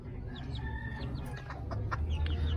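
Labuyo junglefowl chickens, sick and struggling in cold weather, cluck softly in short scattered calls over a low background rumble, with no talking.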